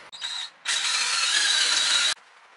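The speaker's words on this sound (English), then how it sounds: "it is called an eraser wheel. It basically will take off any of your decals" Drill spinning an eraser wheel against decal tape on a 2017 Chevrolet Silverado, a short high whine, then a louder sustained grinding scrub of about one and a half seconds that cuts off sharply.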